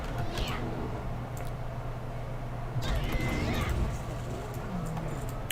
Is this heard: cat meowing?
yes